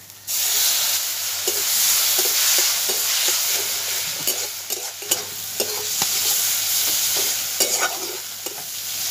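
A spice paste with ground tomato, cumin and turmeric fries in a pan for an egg curry. A loud, continuous sizzling hiss runs throughout, with repeated scraping stirs of a spatula close up.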